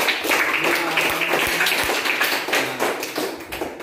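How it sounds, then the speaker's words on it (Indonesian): A class claps for a tabligh group in a classroom, with scattered, uneven hand claps and desk taps close by, fairly loud throughout. "silakan dulu tepuk tangan untuk kelompok tabligh ya"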